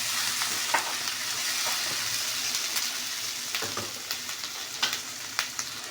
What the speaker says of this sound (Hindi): थोड़ी देर हम आलू को फ्राई होने देंगे